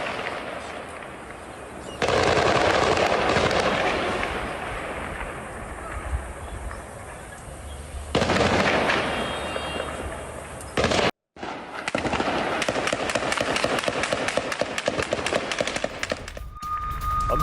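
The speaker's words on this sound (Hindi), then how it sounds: "अल मुगारका में आमने सामने का युद्ध, आईडीएफ और हमास के बीच गोलाबारी" Gunfire rings out during close-range fighting between IDF troops and Hamas in Gaza, heard as dense, harsh bursts of noise across the whole stretch, with abrupt cuts between segments and a brief dropout near the middle.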